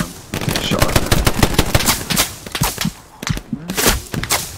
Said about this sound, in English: they've got a sniper and an MG